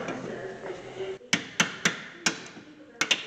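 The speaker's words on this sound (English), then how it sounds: "Use a hammer, not your hands." A hammer strikes a rusty brake caliper on a 2013 Hyundai Santa Fe, about six sharp metallic knocks in an uneven rhythm, close and loud over a faint background hum.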